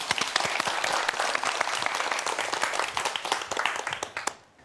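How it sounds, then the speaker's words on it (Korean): A lecture audience applauds in dense, sustained clapping that welcomes a speaker and fades out near the end, with a bit of voice mixed in. "박수로 환영해 주시기 바랍니다."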